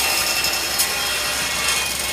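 A power saw cuts through a small wood block with a loud, continuous rasping whine while building a drilling head for a benchtop pocket-hole machine.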